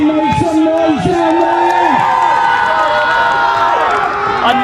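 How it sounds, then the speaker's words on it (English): Loud crowd at a Mepham boys high school soccer game cheering, whooping and shouting continuously, with strident voices rising and falling close by throughout. "Let the crowd get really loud here."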